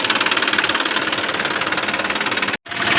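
A tractor engine runs on a farm during onion sowing, a loud, steady knocking chug that pulses evenly for about two and a half seconds, cuts out briefly, then resumes.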